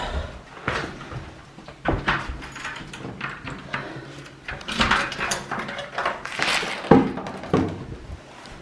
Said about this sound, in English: Squeaky doors.